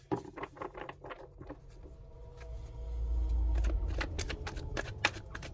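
Tarot cards are shuffled and handled close up during a reading, making quick, soft riffling patters and light flicks, with a low rumble in the middle and no talking.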